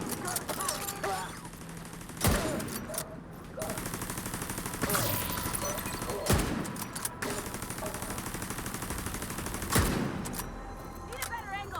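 Automatic weapon fire in the Division 2: Warlords of New York video game, with sustained rapid bursts broken by several louder, sharper shots; voices speak over the gunfire.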